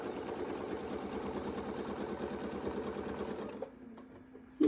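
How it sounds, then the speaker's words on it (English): Sewing machine stitching fabric in a steady, rapid run of needle strokes that stops near the end, leaving a low hum and a brief click. "then we can just start sewing"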